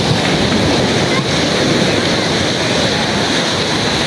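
Ocean surf washes steadily onto Jimbaran beach in Bali, a loud, continuous broadband roar with wind buffeting the microphone and no pauses.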